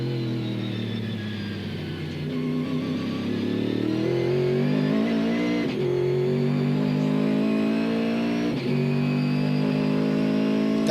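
Cadillac CTS-V race cars run at part throttle through a hairpin during a 2004 World Challenge GT race at Sebring, with a steady, droning engine note that rises and falls gently without reaching high revs, continuous and fairly near.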